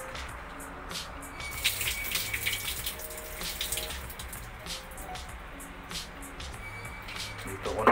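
Water splashes and trickles steadily as it is poured out of a water spinach planting container onto a surface with drainage, a continuous wet spattering throughout at moderate distance.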